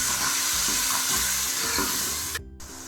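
Tomatoes frying with golden-browned onions in a pan, a steady close sizzle with rhythmic stirring scrapes throughout, cut by a brief gap near the end.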